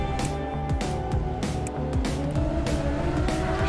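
A Honda racing motorcycle in the TT Isle of Man Ride on the Edge 2 video game screams through rapid up-shifts, its engine pitch climbing and dropping repeatedly, loud and close.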